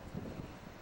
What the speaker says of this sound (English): It was real super windy